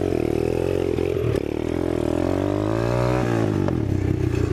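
A 2019 Apollo 125 pit bike engine bogging hard as the throttle is gunned, a close, loud buzzing idle that rises sluggishly in pitch without picking up, then drops back down.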